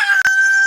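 A single loud rooster crow lasts under a second, close and shrill, with a brief break partway through and no voices alongside.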